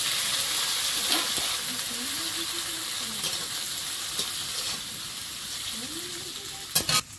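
Capsicum sizzles steadily in a hot pan of chili chicken, a dense crackling hiss with a few scraping spatula strokes and a sharp clatter near the end.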